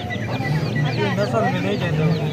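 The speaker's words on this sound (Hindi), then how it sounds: "छोटे छोटे चूजे मौजूद हैं इस मुर्गी के साथ" Hens with small chicks at a livestock market: hens cluck steadily up close while the chicks cheep over a busy, noisy outdoor background.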